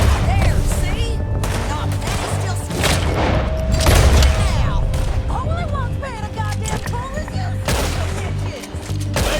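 Gunfire in a cowboy-themed video game, with repeated booming shots and bursts scattered over several seconds amid game effects, while people talk over it.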